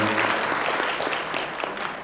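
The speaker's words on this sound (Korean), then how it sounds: "큰 박수 한번 부탁드리고요" Applause from a seminar audience at a disability services association general meeting, steady dense clapping throughout, moderately loud and close with no talk over it.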